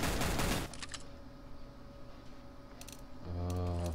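Rapid automatic gunfire in Counter-Strike bursts loudly for a moment, then gives way to a steady mechanical hum and more clattering shots, with no talking.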